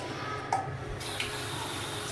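Water pours steadily from a tap into a container in a clean shower room, a soft, even trickle with small splashes.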